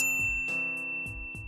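A bright notification bell dings three times in quick succession, each strike a clean metallic chime ringing out over a steady sustained tone, fairly loud and close with no voices.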